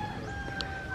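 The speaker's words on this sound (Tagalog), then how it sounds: "May manok pa dyan." A chicken on a flower-filled farm gives a brief, faint cluck against a soft outdoor background.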